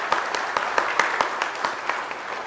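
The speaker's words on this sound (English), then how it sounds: "Can we give her a round of applause" An audience at a church service applauds, with steady, moderately loud clapping filling a hall for a couple of seconds and no talking.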